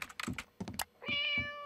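A cat in a short internet cat video gives a clear, tonal meow close to the microphone after several quick tapping and thudding knocks, with no voices present.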